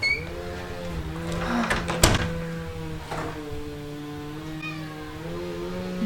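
A house cat meows several times indoors, close and clear, with drawn-out tonal calls and a sharp knock or door click partway through.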